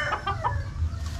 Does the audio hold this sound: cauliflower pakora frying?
no